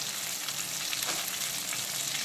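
Peeled pointed gourd fries in plenty of hot oil, giving a dense, even sizzle with steady crackling hiss at close range and no speech.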